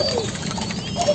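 Young turtle doves coo in short, soft calls, close and fairly loud against a light background hiss.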